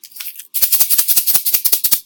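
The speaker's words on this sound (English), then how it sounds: "So this is the sound of pinto beans" A brief shake, then a rapid rhythmic rattle of pinto beans inside a plastic egg shaker, crisp and close, about a dozen quick shakes.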